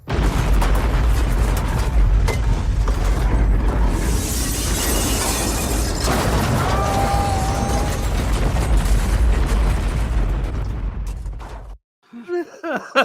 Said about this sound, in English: they had a lot of fun military explosions in this